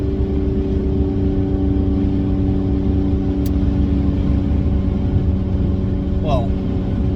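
Chevy car engine with an enlarged intake manifold idling, a steady low rumble with strong even harmonics, close and constant throughout, with a brief rising chirp near the end.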